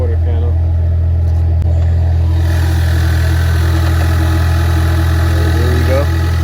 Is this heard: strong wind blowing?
no